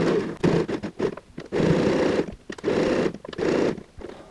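A sewing machine running an edge stitch along a fabric tote bag in several bursts, its fast rhythmic whir starting and stopping with short pauses between runs.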